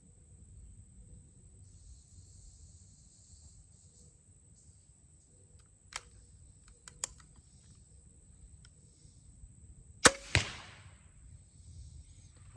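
An arrow strikes a Spyder Web archery target with a single sharp, close impact near the end. A couple of faint clicks come before it over a quiet outdoor hiss.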